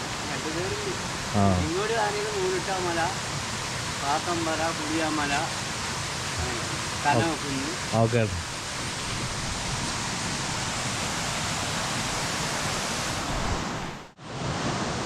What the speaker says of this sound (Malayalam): നമ്മൾ ഇന്നുള്ളത് നേരെ മേലാരം തട്ട് വെള്ളച്ചാട്ടം കേട്ടോ.